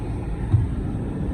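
A new car hums along in a steady, low engine-and-road drone, heard from inside the car, with no voices.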